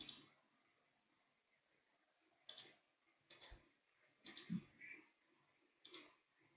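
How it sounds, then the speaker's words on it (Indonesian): Computer mouse clicks while working in QGIS mapping software: about six crisp, quiet clicks at irregular intervals, some in quick pairs, with no talking. "Kita klik di sini."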